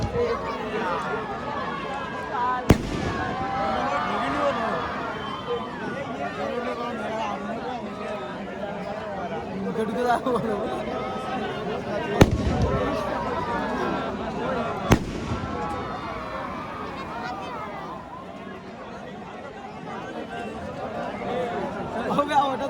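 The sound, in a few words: fireworks at a football match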